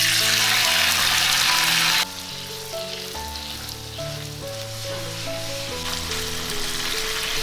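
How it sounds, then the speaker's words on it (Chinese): Tofu hits hot oil in a pan with a loud, bright sizzle for about two seconds. The frying then continues more quietly beneath background music with steady melodic notes. "油温热了，把豆腐放下来煎。"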